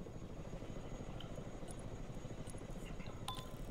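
Helicopter in the modern military strategy game Broken Arrow gives off a steady rotor thrum with a rapid low-frequency chop, constant and fairly quiet, with faint small clinks and blips of battle sounds above it and no talking.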